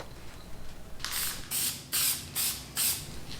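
Metallic rattle can of custom-mixed spray paint shaken hard by hand, giving five sharp, evenly spaced bursts of rattling, close and loud with no talk.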